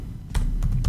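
Keystrokes on a computer keyboard typing out a short function name, three distinct clicks spaced unevenly over a low hum, close and fairly loud with no talking.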